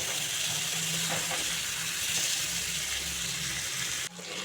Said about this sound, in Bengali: বেগুনগুলোকেও হালকা ভেজে নেব।